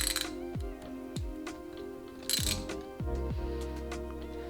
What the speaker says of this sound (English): So just thread 2 nuts onto here and then tighten them together.